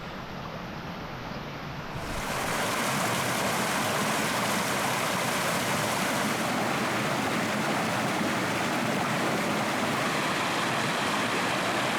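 A Pennsylvania woodland creek rushes in a steady, broadband wash of flowing water, swelling louder after the first couple of seconds and continuing close and unbroken.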